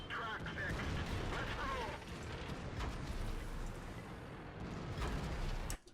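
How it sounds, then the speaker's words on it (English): T-57 Heavy tank firing HEAT shells in a tank battle video game, booming gunfire and rumbling mechanical noise in a dense, continuous wash that cuts off abruptly at the end. "that's basically the T-57 Heavy unloading heat shells, a full heat clip, into the T-44"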